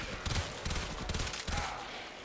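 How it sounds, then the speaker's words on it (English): Rapid gunfire and explosions from the video game Warframe form a dense, continuous barrage of overlapping shots and booms for a couple of seconds, loud and sustained with no speech over it. "explosions."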